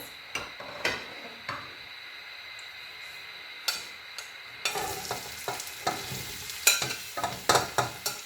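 Chopped onion fries in oil for a chana meva pulao. Sharp spatula taps and scrapes come first, then a louder, denser sizzle takes over with frequent stirring clicks, close and clear.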